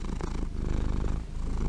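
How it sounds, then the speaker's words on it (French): A cat purring up close, a steady rhythmic low rumble pulsing with each breath, heard alone and clearly. "on va entendre le ronronnement en direct"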